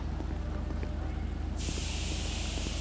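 Pepper spray fired at a person seated in a car during a police less-than-lethal removal scene in a roleplay video game: a loud, steady hiss starts partway through and runs continuously to the end over a low background hum.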